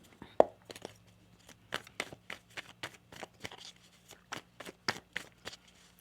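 Tarot cards shuffled by hand in a quiet room, giving a rapid series of soft riffling, slapping taps at a steady rhythm, close and fairly faint, with a low steady hum beneath.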